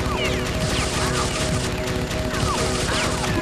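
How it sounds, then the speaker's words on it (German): Continuous rapid gunfire in Oddworld: Munch's Oddysee, a loud, dense clatter of shots with ricochet-like chirps over a steady game hum, with some speech mixed in. "Ich will lieber ballern."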